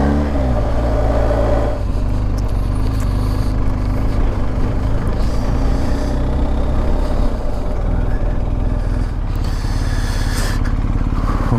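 A BMW R1250GS motorcycle runs steadily at speed, its loud continuous engine drone mixed with heavy wind rush and no pauses.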